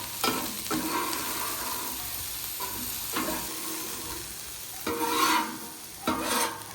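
Beef chow mein frying on a Blackstone griddle, with close stirring and scraping bursts over a steady sizzle, louder flare-ups toward the end.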